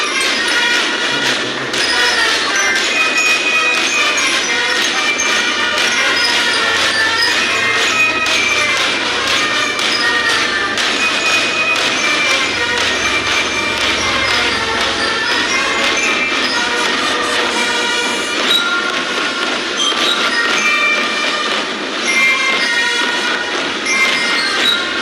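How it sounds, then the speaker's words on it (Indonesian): The SMA Taruna Nusantara school drum band, Gita Bahana Nusantara, marches past in a military parade, playing loud, continuous music with bright brass and steady percussion that fills the whole stretch. "melintas selanjutnya ada drum band SMA Taruna Nusantara, Gita Bahana Nusantara"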